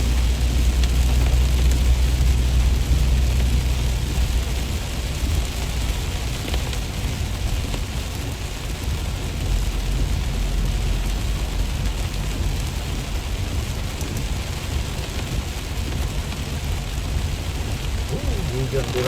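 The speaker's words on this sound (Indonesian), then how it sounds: "Hujan deras sekali," Heavy rain pours down steadily and loudly throughout, a dense unbroken hiss with no pauses, heard en route to a Tongkonan traditional house in Batukianak.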